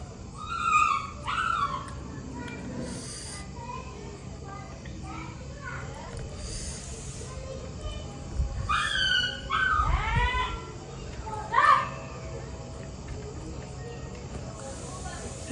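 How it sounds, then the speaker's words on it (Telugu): Dogs yelp and whine in a home in Hyderabad. The high cries come in several separate bursts, some close and some farther off, over low household noise. "వెనకాల కుక్కలు అరుతా ఉన్నాయి."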